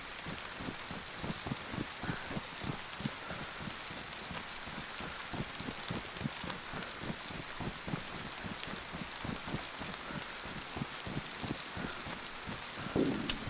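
Steady rain in a modded video game map, a dense patter of raindrops falling continuously at moderate level, with no talk over it.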